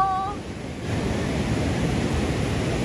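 Sea waves wash in at Hawksbay beach, Karachi, a loud broadband rush of surf mixed with wind noise, with a short tonal sound at the very start.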